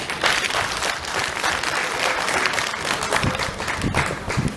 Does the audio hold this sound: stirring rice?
no